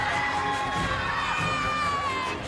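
Children shouting and cheering together as a loud, steady crowd during a team game, with overlapping high voices and no clear gaps.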